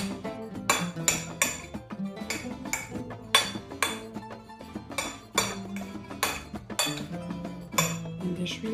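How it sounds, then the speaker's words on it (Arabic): Vegetables for a Russian salad being mixed together in a bowl, giving a steady run of close, bright clinks and scrapes of utensil against dish at an uneven rhythm, with no talking. "وغادي نخلط هاد الخضيره هادي كلشي مع بعضياتو"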